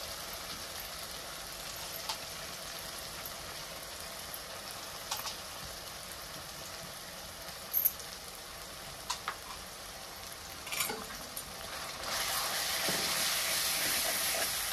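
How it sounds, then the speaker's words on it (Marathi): Ground masala sizzles in hot oil for misal pav, a steady frying hiss that grows louder and brighter toward the end, with a few soft clinks of utensils and no voices. "मगाशी जे मी बारीक केलेला मसाला आहे ते सगळा ह्यात टाकून घेते तेलात"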